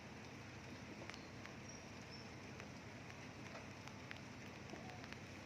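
Steady, faint rain patters continuously on garden plants, a soft even hiss with scattered drops and no voices.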